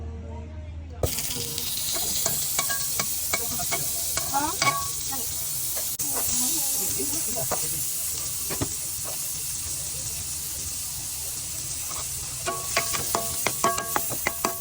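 Sliced meat frying in a pan, a continuous loud sizzle and hiss with frequent clicks and scrapes from stirring utensils that run throughout after a brief quiet start.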